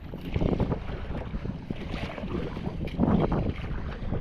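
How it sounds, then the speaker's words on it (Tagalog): Loud, continuous wind buffeting the microphone over rough, churning waves, with surges of rushing water and no talking. "Mamaw na yung alon bago yung hangin."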